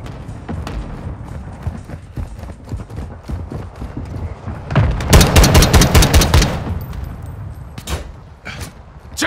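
Automatic gunfire in a Call of Duty Domination match: scattered distant shots, then a loud close burst of rapid fire around the middle, fading back to sporadic pops.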